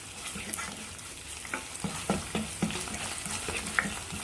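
Cooked onion and finely minced meat fry in a pan, a continuous sizzle broken by repeated scraping stirs of a utensil against the pan, close and clear with no talking.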